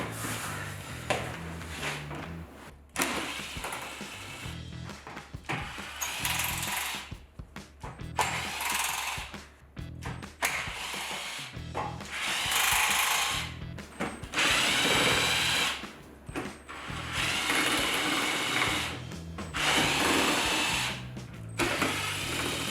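Power tool removing Torx bolts from the front bumper of a 2023-2026 Chevrolet Colorado, several loud whirring bursts of the drill separated by pauses with ratcheting and rattling metal between them.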